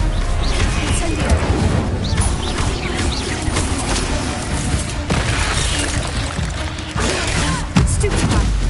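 In the Hogwarts Legacy video game, an Incendio spell goes off amid combat with spiders, bringing loud crashing, whooshing bursts and thuds in a busy, continuous battle mix, with a voice calling out spells.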